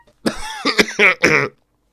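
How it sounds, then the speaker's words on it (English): Several sharp coughing bursts in a close, loud fit lasting just over a second, with no talking around them. "Sorry, bad cough."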